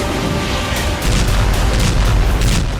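A war explosion rumbles in a deep, sustained boom, loud and close, with a heavier swell of low rumble midway through and no voices.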